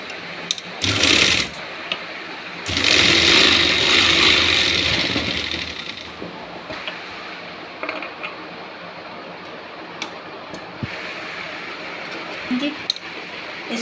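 A sewing machine stitches a Rajputi suit: a short whirring burst, then a longer run of about three seconds, followed by quieter clicks and fabric handling, with a voice talking over part of it.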